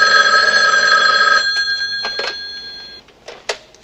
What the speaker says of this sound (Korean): 그녀의 새로운 사무실에 한 전화가 걸려오는데